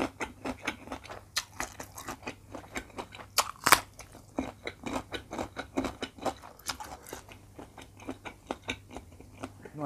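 Close, wet chewing and crunchy bites of a spicy Thai octopus tentacle salad, rapid rhythmic mastication sounds with occasional louder crunches, no talking.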